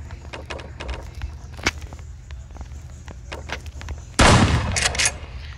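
Gunfire in a Fortnite-like shooter video game: a scattered run of sharp shots, then a dense, louder burst of rapid fire near the end.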